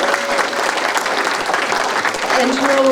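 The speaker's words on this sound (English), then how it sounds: "a round of applause for our incredible speakers" A book launch audience claps steadily for the speakers, a dense, close round of applause that holds throughout, with a few voices rising near the end.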